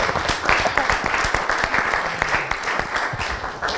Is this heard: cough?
no